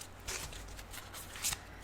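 Tarot cards being shuffled by hand, a steady riffling and rustling run close to the mic with a sharper flurry near the end and no talking.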